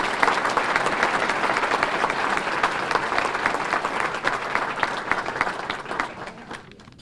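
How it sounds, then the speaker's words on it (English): Audience at the Piqua Area Chamber of Commerce 73rd annual dinner gives a sustained round of applause for past award winners, dense, steady clapping that tapers off near the end. "A round of applause for our past award winners."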